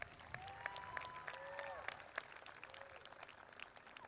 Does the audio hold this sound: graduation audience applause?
yes